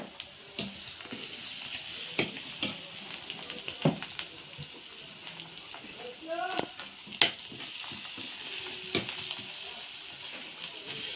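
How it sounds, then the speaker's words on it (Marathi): Spices and blue fountain bush leaves frying in a Malvani-style tempering, a continuous sizzle with intermittent stirring scrapes and utensil taps, close by, with brief voices now and then. "फोडणीत जरा टाकायचं म्हणजे जरा फ्राय होता चांगलं."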